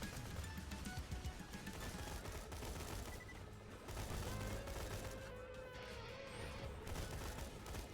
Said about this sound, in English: Yeah, very underrated little assault rifle.